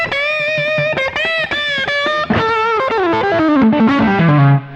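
An electric guitar plays through a Fender Cyber-Twin SE amp with a boosted, driven tone, bright sustained notes ringing loudly before a descending run.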